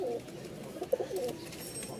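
Two pairs of Rajshahi pigeons cooing nearby, a few soft low coos and a short flutter over quiet background hiss, with no talking.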